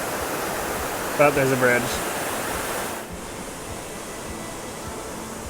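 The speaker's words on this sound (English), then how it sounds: "now I gotta get across the Temperance River" Temperance River water rushing steadily through a rocky gorge, a broad, continuous roar that drops a little in level partway through, with someone speaking briefly over it near the start.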